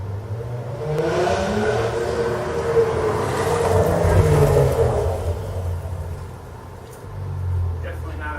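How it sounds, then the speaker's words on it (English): A 2017 Cadillac ATS-V fitted with a Weapon-X exhaust revs, its deep rumble swelling and easing as the engine climbs and settles, with a voice speaking over it. "Boy, that is an interesting sounding car, especially for a Cadillac."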